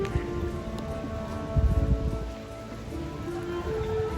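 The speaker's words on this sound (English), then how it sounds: "And yes, it is raining." Steady rain pattering on surfaces all around at a Disney resort, with a busy outdoor murmur and occasional louder splashes nearby.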